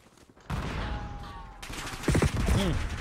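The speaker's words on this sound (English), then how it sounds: "he wasn't even shooting at me" Gunfire in the video game Black Ops 6: loud rapid shots that start abruptly and keep going among game effects, with a voice talking over the latter part.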